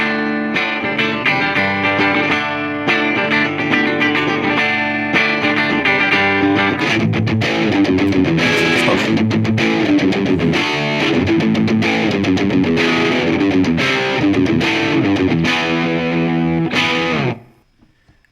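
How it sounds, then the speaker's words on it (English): Electric guitar playing chords, first clean and ringing, then switching to a heavily distorted, saturated tone for the rest of the passage before cutting off abruptly near the end. "a guitar clip which compares the original clean guitar with the distortion effect"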